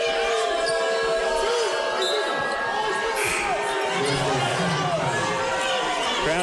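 A college basketball crowd in a gym murmurs and calls out in disapproval after a foul, a constant loud chatter with sneaker squeaks and ball bounces on the hardwood.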